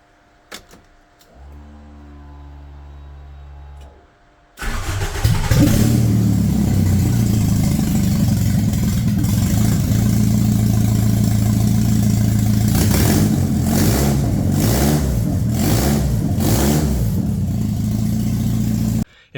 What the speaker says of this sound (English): Sounds like a tractor because it's got open headers at the moment